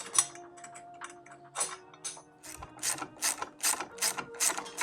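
A hand ratchet tightens nuts on a Loppet 60 tractor chassis, giving close, crisp runs of clicking in quick bursts, then a steadier rhythmic series of louder clicks.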